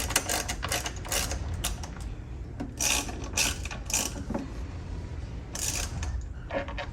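Ratchet clicking in quick bursts as a Pro Watercraft ride plate is removed from a Kawasaki SXR 1500, close and moderately loud over a low background hum, with no talking.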